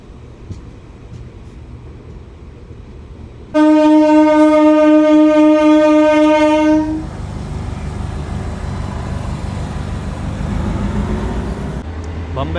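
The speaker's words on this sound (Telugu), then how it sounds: "ఈ డెమో ట్రైన్ అయితే వెళ్ళిపోతుంది, సోనిపత్ వెళ్ళే డెమో ట్రైన్ అది" A DEMU passenger train to Sonipat leaves the platform with a long, loud horn blast, then rumbles and clatters steadily as it pulls away, with a second brief horn note near the end.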